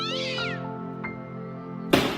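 A kitten gives a clear, close meow with a rising-falling wavering pitch during a firefighters' rescue, followed by a short sharp knock near the end.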